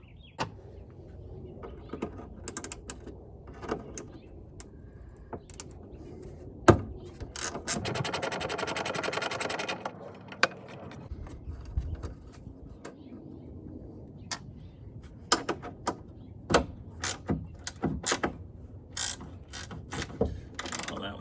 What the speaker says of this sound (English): I'm just going to grab a 13mm ratchet wrench and knock that thing off